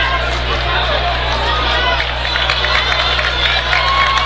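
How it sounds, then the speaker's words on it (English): Farmington fans in the crowd at a Class 4 District 2 basketball championship game cheer and roar in a dense, continuous wash of noise that fills the gym with babble. "Farmington crowd getting hyped."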